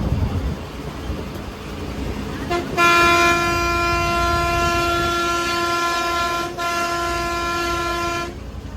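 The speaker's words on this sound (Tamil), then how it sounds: "ட்ரெயின் மாதிரி ஒரே ஆரன் தான்." A long, loud air horn on a speeding Cuddalore to Pondicherry bus blares like a train horn, a steady harmonic tone held for about six seconds with a brief dip midway, over road rumble.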